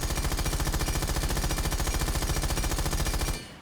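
A Rainbow Six Siege weapon, Maru's gun, fires nonstop at a fast, even rhythm. The loud, rapid shots run for over three seconds and then stop abruptly.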